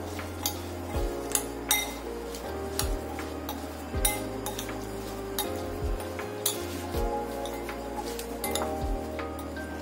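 A spoon clinks and scrapes repeatedly against a bowl while mango pickle is mixed, a close, uneven rhythm of metallic taps and rattles running steadily for about ten seconds with no talk.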